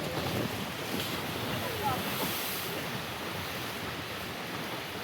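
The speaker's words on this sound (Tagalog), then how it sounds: "grabe yung alon, ang lakas ng alon, no? Humahampas talaga." Strong sea waves pounding the shore at San Nicolas, Batangas, a broad continuous roar of surf mixed with gusty wind buffeting the microphone.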